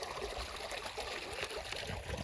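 Fresh well water flowing steadily for a bullock to drink on a farm, a soft continuous trickle and gurgle heard close up and fairly faint, with no talking.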